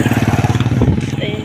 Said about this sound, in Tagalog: Yung mga tricycle